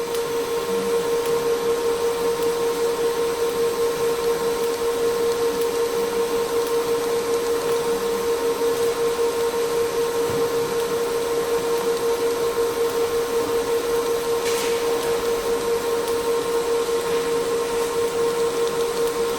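A Bohler Uranos GSM 4000 MIG welder pulse welding gives off a steady, loud electrical hum with a constant tone, running without break for the whole stretch, with no voices.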